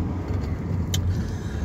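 Car interior while driving, with a steady low engine and road rumble throughout and a brief light rattle near the middle; no talking.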